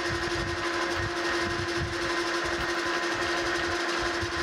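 A metal lathe lightly faces the bottom of a steam locomotive brake valve stem, giving a steady mechanical whir with a constant tone and a faint cutting hiss, heard alone and held throughout.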